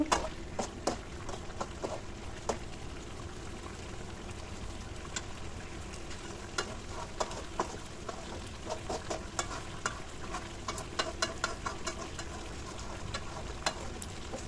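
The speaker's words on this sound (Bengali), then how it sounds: "ডাকনা দিব না কিছুক্ষণ পর পর খালি নেড়ে চেড়ে কষিয়ে নেব" Broiler chicken being stir-fried for bhuna in an open pan, a constant low sizzle with frequent light clicks and scrapes of a spatula, steady and unhurried.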